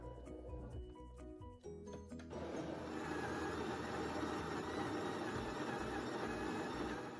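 An espresso machine brewing a double shot, its steady pump drone and hiss running loud and continuous after a few clicks and knocks at the start, with caramel and mocha syrup already in the cup.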